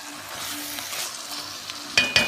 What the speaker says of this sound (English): everything's cooking up real good now. Just kind of stir the meat together here.